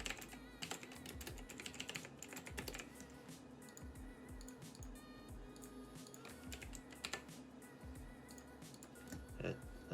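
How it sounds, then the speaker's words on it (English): Card details go into a computer keyboard in quick, uneven bursts of clacking keystrokes, close and fairly quiet, with short pauses between runs and no speech. "I'll type it in manually."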